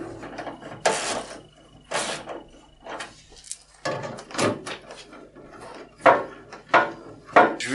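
A ratchet tightens bolts on a Renault 4L exhaust, producing short, close bursts of rapid metallic clicking separated by quiet pauses.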